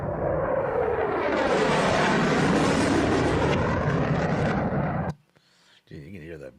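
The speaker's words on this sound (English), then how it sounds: "you can hear the buzz of those fucking jet engines" Jet aircraft engines buzz overhead in Los Angeles, a loud, sustained broadband roar that fills most of the stretch before cutting off abruptly near the end, followed by brief faint radio chatter.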